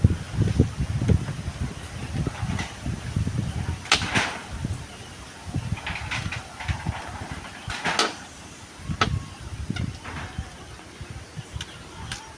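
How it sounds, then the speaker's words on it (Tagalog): Strong wind roars and gusts continuously, with whooshing surges and buffeting rumbles throughout. "Bilis po ng hangin. Ang lakas."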